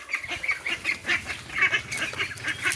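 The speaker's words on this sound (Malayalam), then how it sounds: "നമ്മുടെ താറാവുകളാണ് കേട്ടോ" A flock of farm ducks quacking repeatedly in quick, overlapping bursts, close by and fairly loud, with no talking.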